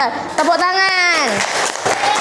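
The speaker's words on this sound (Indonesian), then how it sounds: "Tepuk tangan." An elementary class claps after a group presentation, sharp scattered hand claps beneath a prominent sung or chanted voice and children talking.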